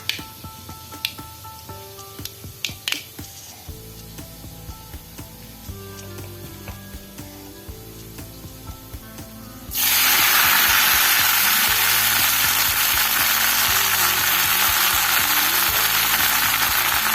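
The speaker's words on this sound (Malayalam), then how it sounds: "അതിലേക്ക് വെളിച്ചെണ്ണ ഒഴിച്ച് കടുക് പൊട്ടിച്ച് നമുക്ക് നമ്മുടെ മൾബറി ഇല അതിലേക്ക് ഇട്ട് കൊടുക്കാം" Mustard seeds crackling in hot coconut oil in a heated pan, then washed mulberry leaves dropped in, setting off a sudden loud, steady sizzle that dominates the second half, close up with no talking.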